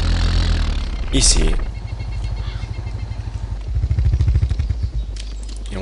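Quad bike engine in the video game DayZ, idling with a steady low pulsing chug that swells louder near the end, running under someone talking.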